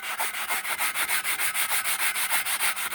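Sandpaper rubbed across aluminum after paint stripping, a steady back-and-forth hiss of quick, even strokes, loud and close with no voices.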